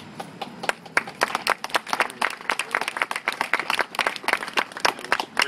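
Scattered audience applause during a mayor's address on neighborhood economic development funding, sharp individual hand claps overlapping in an uneven burst that holds steady at moderate volume.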